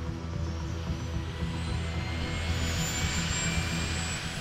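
A loud, steady helicopter engine whine and rotor roar as it takes off and reverses out of a seaside cove, close by and continuous, with no voices.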